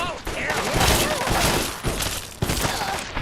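Enemy shotgun blasts in the Fallout 3 video game, several sharp booming shots and impacts in quick succession, with a player's voice talking over the gunfire.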